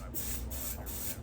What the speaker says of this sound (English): This is the Eben Wonder Lace Bond Spray. We got some oatmeal. And I'm just gonna spray it.